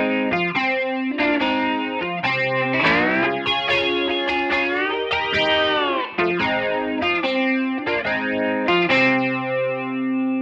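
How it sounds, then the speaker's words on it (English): A clean, chimey droning electric guitar part plays alone, with sustained harmonized chords ringing loud and steady under a swirling, effects-heavy shimmer. "Here's the guitar part all by itself."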